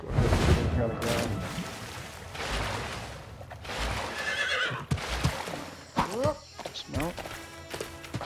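A horse whinnies in the LEGO Worlds video game, a loud neigh amid hoof clip-clops and game sounds, while someone talks over much of it.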